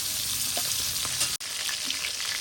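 Taki fish pieces frying in hot oil in a home kitchen, a dense, steady crackling sizzle heard up close, briefly cutting out for an instant before resuming.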